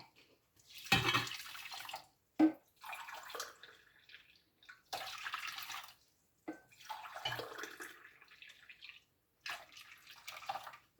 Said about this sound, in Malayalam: ഞാനിപ്പോൾ ഇതിലോട്ട് തിളച്ച് വെള്ളം കേട്ടോ ഒഴിക്കുന്നത്